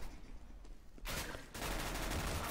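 Gunfire in Counter-Strike: GO, heard as sharp bursts of shots followed by a dense, continuous barrage of rapid fire, fairly faint overall.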